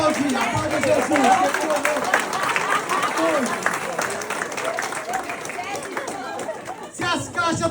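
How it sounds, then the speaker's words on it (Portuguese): Church congregation clapping and cheering at a sermon, a loud busy mix of applause and crowd chatter with a preacher's voice cutting through, thinning out toward the end. "Pode aplaudir, aplaude Jesus"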